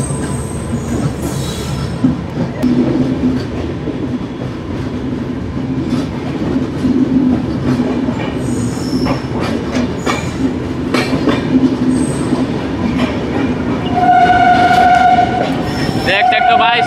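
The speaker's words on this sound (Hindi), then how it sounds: "यहाँ पे भाई हमारी ट्रेन अभी स्किप करेगी पटना साहिब को" A passenger train rolls through Patna Sahib station without stopping, heard from inside a crowded general coach of the 13230 Rajendra Nagar–Godda weekly express. Loud, steady rumble and clatter of the wheels, with squeals and a horn near the end.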